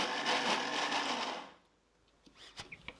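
A mixer grinder runs on low speed, grinding soaked urad dal into a thick batter: a steady, dense whirring drone that fills the first half, then stops, leaving faint clinks and small knocks.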